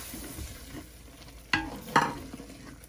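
Chilies sizzle softly in a frying pan, with two sharp clatters of stirring cutting through the steady crackle.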